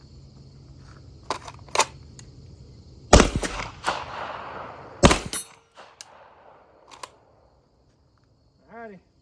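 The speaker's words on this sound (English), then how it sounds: "HK P30L, let's run the same thing. One shot up close, next shot down at 50." HK P30L pistol fired on open iron sights, one shot up close and one at a 50-yard target: two loud, sharp reports a couple of seconds apart, each with a short echoing tail, and a faint metallic ping and quiet handling sounds after.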